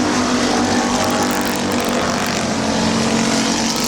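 Race cars roaring around the oval at Midvale Speedway, a dense, steady engine drone with a wash of track noise that holds loud and constant throughout, no voices over it.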